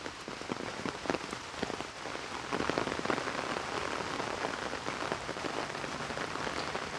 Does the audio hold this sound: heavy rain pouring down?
yes